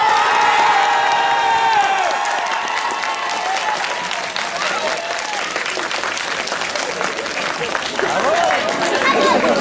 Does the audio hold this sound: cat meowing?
no